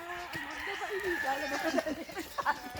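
Chickens and a rooster on a poultry farm, with clucking and a crowing rooster running through the clip over a dense background of birds, and a person talking on top.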